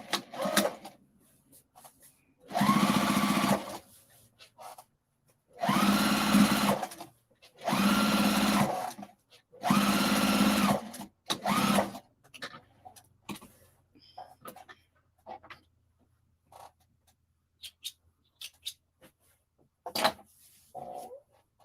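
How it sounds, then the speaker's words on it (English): A home sewing machine stitches fabric in four steady bursts of a few seconds each, close and loud, followed by quieter handling clicks and rustles of the cloth. "now I gotta sew this on here"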